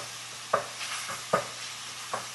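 Italian sausage browns in a pan with a soft, steady sizzle, punctuated by three distinct utensil clinks or scrapes at roughly even intervals; quiet and close, with no talking.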